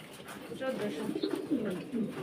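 Pigeons coo softly at a pigeon farm, low warbling calls rising and falling through the clip, fairly close, with a faint murmur of human voices mixed in.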